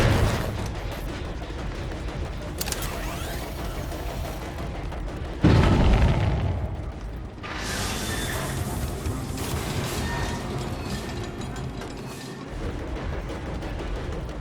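A generator exploding from the Eruption perk in Dead by Daylight, a loud sudden boom that rings out and fades into rumbling game ambience, with no voices.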